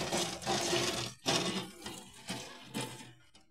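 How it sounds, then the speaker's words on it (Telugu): Water is poured out for cleaning in several splashing gushes, each surging and then easing off, close by with no talk. "చూడండి వాటర్ కూడా వేయాలట."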